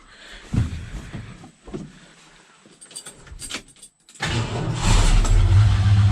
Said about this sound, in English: I guess I could start it for you guys if she's going to start.